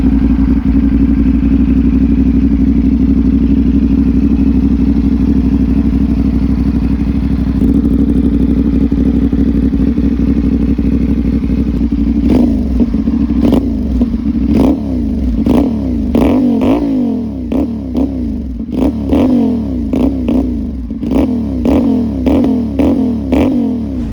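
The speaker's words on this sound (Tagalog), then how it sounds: "nag-soundcheck ako ulit para sa 450NK exhaust" A 450NK motorcycle fitted with an SC Project slip-on exhaust idles loudly at close range with a steady rumble, then breaks into a run of sharp, repeated throttle revs that rise and fall in quick bursts. No one speaks.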